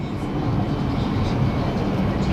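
A passenger train rolls along in China, giving a continuous low rumble and rattle from inside the carriage, steady and moderately loud with no talk over it.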